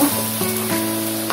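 Garlic sizzling steadily in a hot pan as it sautés, a continuous broadband frying hiss with faint tonal hum underneath, close and even throughout.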